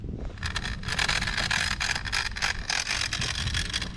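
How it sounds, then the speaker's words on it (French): Rear mudguard on a GTXR R5 electric kids' scooter vibrates while riding, a dense, close rattling buzz that runs continuously with wind rush across the whole stretch. "Le bruit que vous entendez, c'est le garde-boue arrière qui a tendance à vibrer un petit peu."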